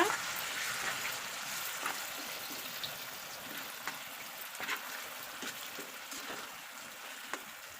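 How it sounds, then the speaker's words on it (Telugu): Tomato pickle frying in oil over a slow flame, a soft continuous crackling sizzle with scattered small pops and light stirring, close by and fairly quiet. "స్లో ఫ్లేమ్లో పెట్టి ఒక ఫైవ్ మినిట్స్ దీన్ని ఇలా ఉడికించుకోవాలి కొంచెం కలర్ చేంజ్ అయ్యేంత వరకు దీంట్లో ఇలా ఫ్రై చేసుకోవాలి"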